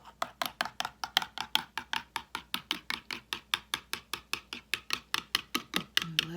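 A spoon clinking rapidly against a cup while stirring coffee with chocolate, a steady rhythm of about four bright ticks per second, close and clear, alone.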